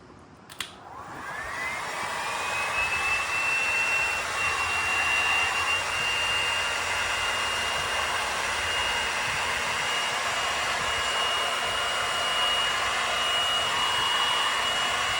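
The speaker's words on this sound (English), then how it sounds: "So I have my heat gun and my plastic tool." A heat gun blows hot air onto vinyl film on a car body, a steady, loud whooshing drone with a whining tone that spins up after a click and holds without a break.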